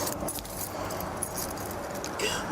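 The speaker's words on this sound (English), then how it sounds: "I've got the keys right here around my neck." Keys on a cord around a neck jangle in short metallic bursts, close by, against a busy outdoor background.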